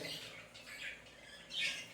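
Pet birds with a brood of chicks chirping and squawking indoors, a steady close cluster of high calls with a louder burst near the end.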